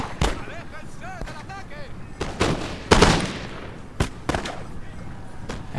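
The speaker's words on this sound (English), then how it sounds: "All those volleys. Some more shooting going on here." Musket volleys crack out in the Napoleon: Total War video game, several sharp shots and rolling bursts of gunfire in a busy battle, with a voice talking over the firing.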